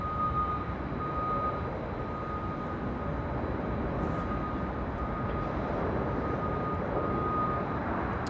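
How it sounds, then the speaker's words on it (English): A Japan Airlines Boeing 777-300ER at LAX, seen from a hotel rooftop, gives a steady broadband jet roar with a faint high whine, holding level and fairly distant throughout with no voices. "Right up next is the Japan Airlines"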